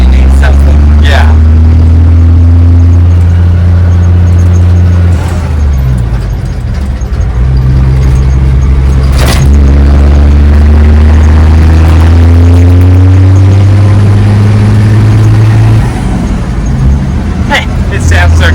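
A 2003 Cummins diesel truck engine runs loud and close with a steady low rumble, shifting pitch slightly as it revs, with a few sharp knocks and people talking around it.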